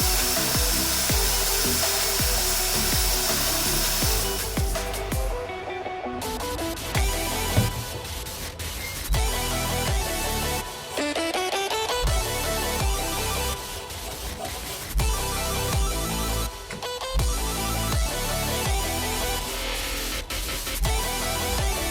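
A power tool grinds casting marks off a small cast inlet manifold for a CG10DE engine. It keeps up a continuous whirring, rasping buzz close by, with pitch shifts and brief pauses as the tool works the metal.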